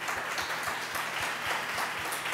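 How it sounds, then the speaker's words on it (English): Applause from a conference audience at the close of a strength-training talk, a soft, fairly distant patter of many hands clapping steadily for a couple of seconds. "Another round of applause."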